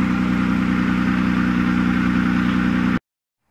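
A 1996 Nissan Maxima runs while backing up and pulling forward after a tire replacement, one of its back wheels held by stuck brakes. The engine hums close and steady for about three seconds, then cuts off abruptly to silence.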